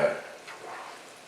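Shrimp and sausage sizzle in a frying pan as a spatula stirs through them, giving a steady close hiss with a few brief scraping sweeps over about a second, with no talking.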